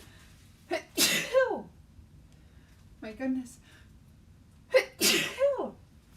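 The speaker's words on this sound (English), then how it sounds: "I have to sneeze." A person crafting faux fur wrapped Christmas gifts sneezes twice, loud and close, with a short sharp intake between them, then speaks briefly afterward.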